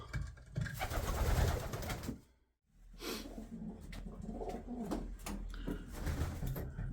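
Racing pigeons in a loft cooing softly, low throaty murmurs and rustling that run on with a brief pause, close and fairly quiet.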